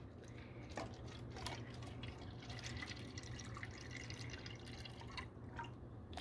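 Alcohol is poured into red Solo cups, a continuous trickling splash of liquid close by, with a few sharper drips breaking through the steady flow.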